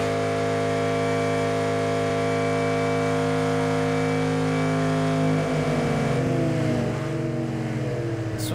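A Street Outlaws drag race car accelerating hard, its engine drone climbing steadily in pitch as it pulls away, loud and close, then breaking into rising staggered tones near the end.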